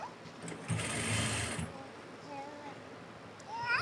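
Sewing machine stitching folded lining cloth, a steady loud whirring run for about a second before stopping, followed by quieter room sounds with a faint voice in the background.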